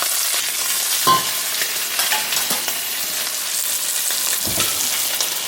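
A ribeye steak sears in a hot pan with a steady, dense sizzle, close and loud, broken by a few brief clanks and scrapes from the pan.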